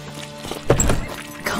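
Horses in The Witcher 3 stir near a guarded door, giving a sharp neigh and a few hoof clops over a low ambient bed, with a brief thump; close and moderately loud, no voices.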